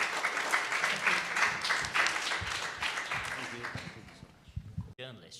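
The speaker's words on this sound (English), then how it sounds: "Big round of applause." A conference audience gives a panel a round of applause, a dense wash of clapping from many hands that swells and then thins out, with voices of people talking mixed in over it.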